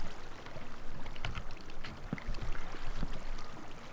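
Flowing water in the video game Minecraft, a steady rushing, splashing stream that stays moderately loud throughout, with a few small clicks and knocks over it and no talk.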